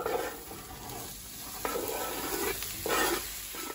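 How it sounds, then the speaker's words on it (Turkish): Finely chopped garlic and onions hitting about half a tea glass of hot oil in a pan for mixed-vegetable lasagna, a soft, steady sizzle with faint bursts as they are stirred. "Ve ince doğradığımız sarımsak ve soğanları ekliyorum."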